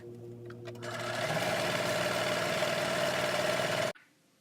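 A sewing machine stitches through tulle on a ribbon-trimmed tutu, running as a steady, fast mechanical whir close by for nearly four seconds before stopping abruptly, followed by near silence.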